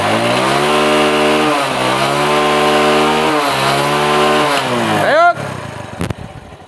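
A TVS Metro motorcycle with a small-cc engine revs hard and close, its buzzing tone rising and falling through several revs before cutting off abruptly, leaving brief clatter and silence.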